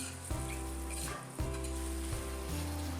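Onions sauté in rendered mutton fat for a Kolhapuri mutton curry, giving a steady, close sizzle and fry with a few stirring scrapes and bumps, with no talking.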